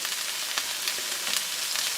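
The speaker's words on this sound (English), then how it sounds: "It's a hot pan, and these spices will release their" Whole spices roast in a hot pan, giving a fairly quiet, continuous crackling sizzle with small pops scattered throughout and no talk.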